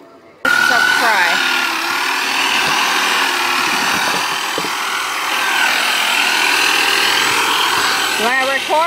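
A hand saw cutting wood during a treehouse build, steady rasping strokes running loud and continuous for most of the clip, with a few faint voices briefly audible at the start and end.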